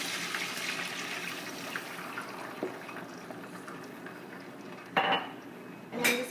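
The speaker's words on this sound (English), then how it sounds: "I'm going to add a cup of water out of my favorite mug here" Water from a mug is poured into a pan of seared beef rouladen, a soft steady trickle with a sizzling wash, ending in a couple of louder clinks and splashes as the pan and lid are handled.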